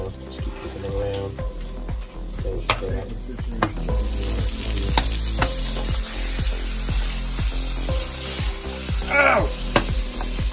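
Butter sizzles and fries in a pan as food is kept moving, a continuous crackling hiss with rhythmic scraping knocks under occasional talk.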